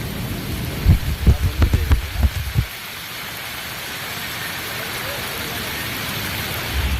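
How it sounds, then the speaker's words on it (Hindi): Heavy rain pours in Delhi's Jamia area, a dense steady hiss of drops on street and surfaces, with a few louder thumps and knocks early on against the constant wash. "दिल्ली में बीती रात से जमकर बारिश हो रही है।"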